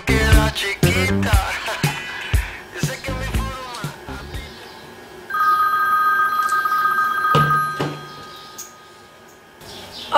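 A telephone rings in a Cuban drama scene, a high trilling ring that repeats through the middle of the clip after a stretch of lively talk and movement, fairly clear and close.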